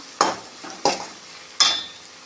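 Kashmiri chilli powder mixture for a tomato and okra kulambu is stirred in a sizzling frying pan: three distinct scraping strokes, evenly spaced, heard close over a soft steady sizzle, with no talking.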